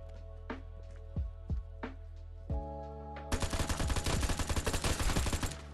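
Gunfire in the multiplayer shooter Vigor: a few spaced single shots from a weapon left on single fire, then a sudden dense burst of rapid automatic fire that lasts several seconds, loud and close, with no talking.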